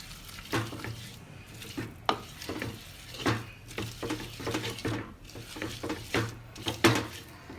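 Repeated soft thuds and wet squelches as cooked arai keerai greens are churned and mashed in a pot with a wooden churner, an irregular steady rhythm, close up and fairly quiet.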